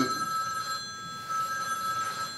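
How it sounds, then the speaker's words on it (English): A telephone rings indoors during a conversation, a steady electronic bell tone holding through the whole stretch at moderate loudness, with no voices over it. "Is that your phone?"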